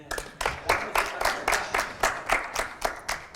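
An audience on a youth debate show claps in a regular rhythm, with around a dozen distinct, moderately quiet beats, evenly spaced from start to finish.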